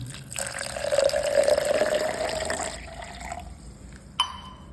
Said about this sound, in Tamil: ஊற வைக்கிறதுக்கு தண்ணி ஊற்றிக்கலாம்.